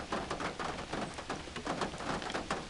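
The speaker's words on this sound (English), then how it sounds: "It started raining about 5 minutes after I got out of the barn and got everything put up." Rain falls outdoors over a farm field after barn chores, a soft, dense, even patter that continues steadily without any voices.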